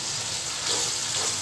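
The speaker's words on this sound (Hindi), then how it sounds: "मसाले को अच्छी तरह भून लेंगे।" Spice masala frying in a pan for seekh kabab salan, a dense steady sizzle and hiss, close and continuous for a moment with no voices.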